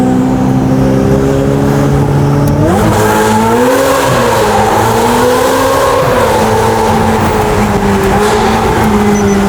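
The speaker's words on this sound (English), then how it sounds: "It blows my mind how good this car can sound with a twin turbocharged system still" A twin-turbocharged Porsche 992 GT3 engine roars loudly and revs up, its pitch climbing steadily, with a boomy echo from driving through an enclosed tunnel.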